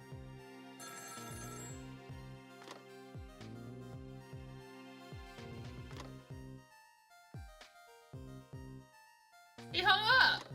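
Telephone ringing in Ghost Trick: Phantom Detective, tonal electronic ringtone notes repeating in short musical phrases over several seconds, ending with a brighter, louder burst of sound.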